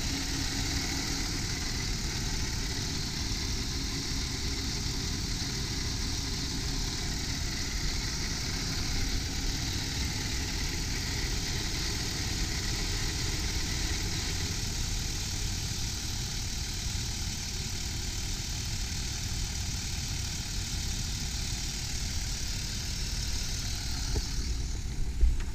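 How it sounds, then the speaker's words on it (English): A 2007 Dodge Grand Caravan SXT engine idles smoothly and steadily, a constant low hum with a faint higher whine, unchanging for the whole stretch with no voices. "Engine's running smoothly, there's no roughness."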